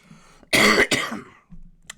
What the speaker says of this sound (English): made myself coughing silly